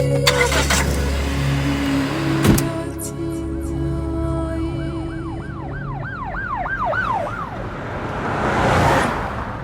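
A car idles and pulls away, its engine rumbling steadily throughout, while a wailing siren rises and falls in repeated sweeps from the middle onward, growing louder toward the end.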